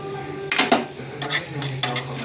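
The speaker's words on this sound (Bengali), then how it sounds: "ঘি দিয়ে কাজু কিশমিশটা একটু ভেজে নেবো" Cashews and raisins fry in ghee while a spoon stirs and scrapes the pan, giving a steady close sizzle broken by a few clinks of metal on metal.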